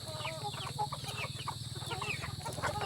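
Bantam chickens cluck in short, repeated calls close by, with a steady low hum running underneath throughout.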